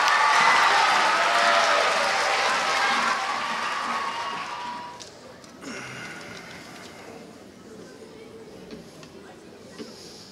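A ceremony audience applauds its graduating class, loud and dense clapping for about five seconds that fades into murmuring chatter and scattered claps.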